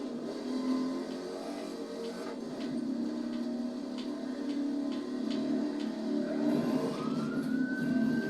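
A police car siren wails in The Crew 2 racing game over a steady engine drone, with a rising siren tone sweeping in near the end and some game effects around it.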